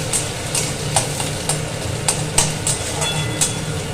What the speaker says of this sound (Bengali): তেল চলে এসেছে, দেব পেঁয়াজ কুচি, একটু লাল করে ভেজে নেব